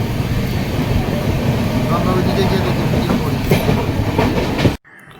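A passenger train out of Kolkata rumbles steadily along the tracks with faint clickety-clack, loud and close, before cutting off abruptly near the end.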